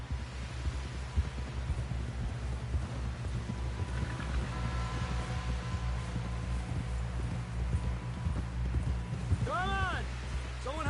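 Horse hooves clop in a steady rhythm through a Red Dead Redemption 2 game scene as the horse carries riders back toward camp, layered over low droning music and ambient hum, with voices talking over it.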